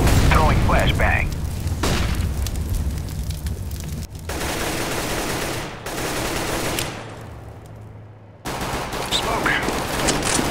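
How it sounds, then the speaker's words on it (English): A flashbang grenade goes off in CS:GO competitive play on the Agency map, a loud bang buried in dense, continuous gunfire and explosions, with voices underneath. "Throwing flashbang."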